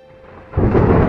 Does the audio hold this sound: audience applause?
no